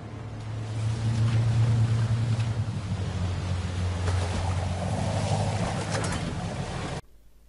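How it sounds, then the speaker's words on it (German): A boat churns through water in the video game Call of Duty: Modern Warfare 2 (2022), towing a person behind it, with a low, steady engine rumble and rushing wash, continuous for several seconds before cutting off abruptly. "Anschließend klingt sich Pierce hier am Boot ein und lässt sich bis zur Morgendämmerung hinterherziehen."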